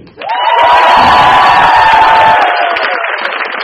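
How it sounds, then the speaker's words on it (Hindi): Audience bursting into loud cheering, whooping and applause after a stand-up comedy set, a big sustained roar close by that slowly eases off. "Give that round of applause"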